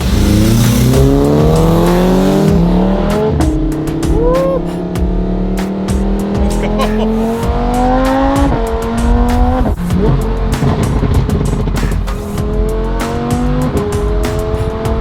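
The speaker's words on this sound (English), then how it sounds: "this Opus exhaust, I'm telling you, It is by far the favorite exhaust I've ever had" A loud sports car with an Opus exhaust roars and revs repeatedly, pitch climbing through gears with sharp pops and crackles; a brief voice speaks near the start.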